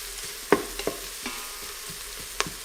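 Onions and garlic sauté in an Instant Pot for white chicken chili, with a few sharp stirring scrapes and clinks over a low, steady sizzle, close by and with no talking.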